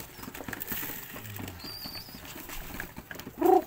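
Homing pigeons flutter and flap their wings in a busy, steady patter while being fed pellets, a mix of near and slightly distant wingbeats without talk.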